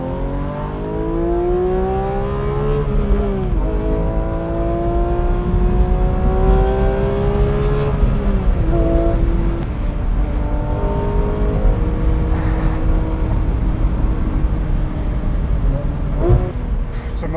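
A Porsche 911 GT3 flat-six revs hard toward 9000 rpm, its loud, continuous howl climbing steadily with a few brief dips between pulls, heard alone without talk.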